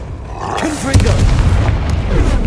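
A Confringo fire spell detonates in Hogwarts Legacy, a loud booming blast with a rumbling roar that swells and holds for a couple of seconds, up close and alone.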